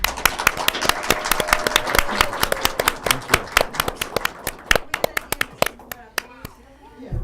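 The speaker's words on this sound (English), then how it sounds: "let's give a really big round of applause for Joseph D'Onofrio" Studio audience applauding a guest, Joseph D'Onofrio, on a TV show, with dense, steady clapping from many hands that thins into scattered claps toward the end.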